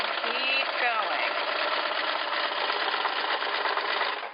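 Sewing machine stitching a seam, its fast steady whirring hum continuous and close, with a brief shift in pitch near the start as the stitching reverses for a stay stitch.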